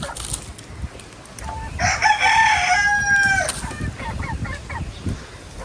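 A rooster crows loud and close in a backyard flock of chickens, one drawn-out call rising and falling over steady outdoor clatter, followed by a few short clucks.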